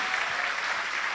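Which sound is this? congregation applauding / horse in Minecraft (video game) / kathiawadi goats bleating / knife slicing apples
congregation applauding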